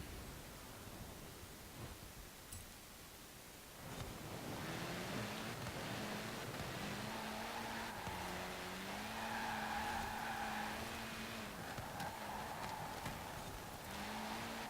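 A Subaru in Forza Horizon 4 skidding on tarmac: engine drone rises after a quiet start, with sustained tyre squeal and wavering engine tones for about ten seconds, moderately loud with no talk.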